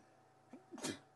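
A single short, sharp sneeze, with a small catch of breath just before it, against a quiet background during an evening safari drive.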